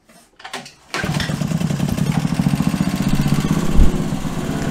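A Subaru KX21 kart engine on a rebuilt prokart chassis, with a few faint pulls or clicks, then it fires up abruptly and settles into a loud, steady, rapid putter with a brief low thump near the end.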